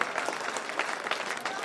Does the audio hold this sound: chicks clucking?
no